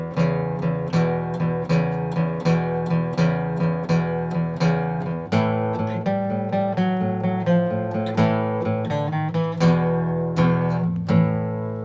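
An acoustic-sounding guitar plays a 12-bar blues turnaround starting from E, with a run of plucked notes over repeating low bass notes at a steady, moderate tempo. The instrument is close and alone, with no talking.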